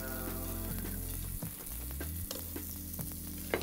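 Steady, close sizzling of garlic slices frying in a hot pot, with occasional stirring scrapes and clinks.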